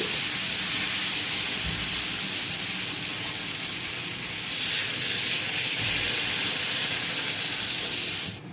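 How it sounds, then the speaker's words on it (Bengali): Water poured into a pan of sautéed taro and catla fish curry sets off a steady, loud sizzle and hiss that holds through the whole stretch and swells slightly partway through, with no voices. "এখন আমি অল্প জল দিয়ে দিচ্ছি"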